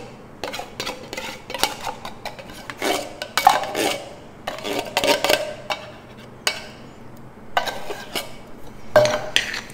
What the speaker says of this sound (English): Give them a good mix.